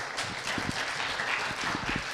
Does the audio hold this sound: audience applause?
yes